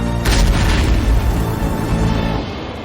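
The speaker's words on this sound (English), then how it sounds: "she tosses the cigarette into a trash can, which causes an explosion from the hidden oxygen tank" A loud explosion from a hidden oxygen tank set off in a trash can in a movie scene, one heavy boom with a sustained rumbling roar that slowly fades, no voices.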